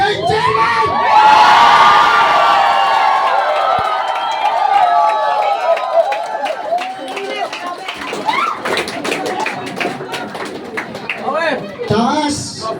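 A large crowd, including children's voices, shouts and cheers loudly for the Chairman in a dense, sustained roar that gradually breaks into scattered individual yells and calls.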